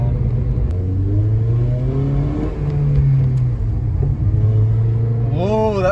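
A 2008 Honda Civic Si Mugen sedan with a manual gearbox pulls hard from inside the cabin, its engine note climbing steadily, dipping at a shift, then rising again before revving up sharply at the end.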